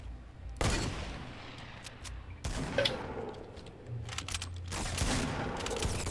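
Fortnite gunfire aimed at an opponent, with loud, close bursts of rapid shots and a few heavier booming blasts in between.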